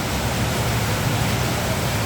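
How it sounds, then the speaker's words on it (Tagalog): Steady, dense hiss of heavy rain pouring down, constant and loud with no breaks, filling the whole clip. "bumuhos po ng malakas ang ulan"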